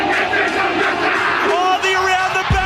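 Full crowd roaring and cheering at a rugby sevens bowl final in a packed stadium, a loud continuous swell of shouts and whoops with a commentator talking over it.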